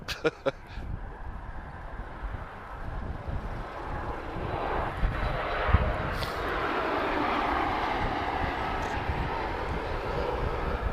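Airliner at Lisbon Airport producing a steady, broad jet engine roar that holds for the whole stretch, fairly close and loud, with a few sharp ticks near the start.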